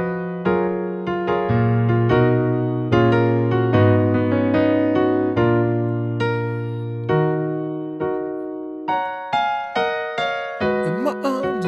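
Solo piano plays an easy arrangement of a song: a steady melody over sustained chords, close and clear with no voices.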